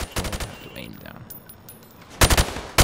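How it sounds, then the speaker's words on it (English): In Call of Duty: Modern Warfare Remastered, a rifle fires at targets on a training range. Two loud, close bursts of rapid shots, one near the start and one near the end, with quieter ambience in between. "Shoot at the targets."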